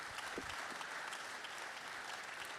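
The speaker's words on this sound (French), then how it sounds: "je vous demande pour le coup de l'applaudir très fort" Audience at a political rally applauding strongly, a continuous dense wash of clapping heard from a distance and fairly faint.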